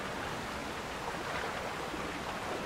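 Waterfall in the video game The Legend of Zelda: Tears of the Kingdom, a steady, even rushing wash of falling water that stays constant and alone throughout.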